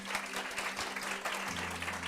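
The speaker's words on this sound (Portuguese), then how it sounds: "uma salva de palmas para ele" Audience applause at the inauguration of a Febracis business event in Salvador, a steady, soft patter of many hands heard from some distance, with a low hum underneath.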